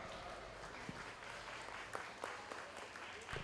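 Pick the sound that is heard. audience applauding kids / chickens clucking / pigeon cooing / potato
audience applauding kids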